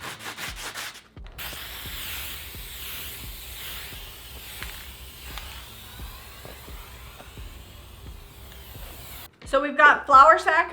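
Milk paint on salvaged wood is sanded smooth by hand, with close, rhythmic rasping strokes repeating steadily before a voice speaks near the end.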